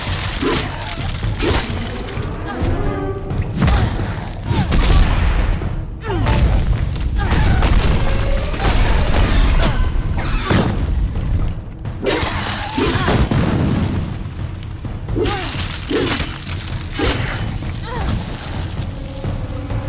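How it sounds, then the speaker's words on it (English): Fire bombs thrown by kobold rogues burst in the Kingdoms of Amalur video game, with heavy booms and crashes over a dense, loud battle mix that runs without a break. "Rogues have fire bombs."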